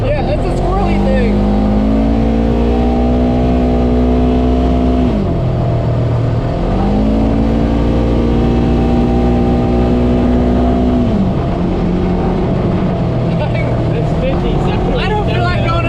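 A Polaris RZR 900 Trail Edition 50-inch side-by-side's engine droning loud and close while riding a trail, its pitch rising through gears, dropping, then climbing again.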